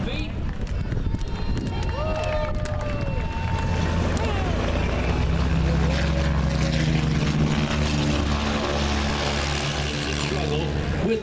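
A propeller airplane climbing at an airshow drones loudly and steadily for the whole stretch, its engine pitch sliding as it climbs, while an announcer talks over it.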